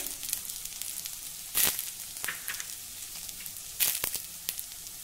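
Onion frying with grated dry coconut in a pan, a steady gentle sizzle with a couple of louder crackling bursts as the mixture is stirred; no talking.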